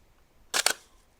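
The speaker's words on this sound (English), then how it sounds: "Quite a serious clunk from the shutter on this camera." A Bronica S2 medium-format film camera fires its shutter with a loud, sharp double clunk in a quiet forest, a brief mechanical snap with a short tail and no talk.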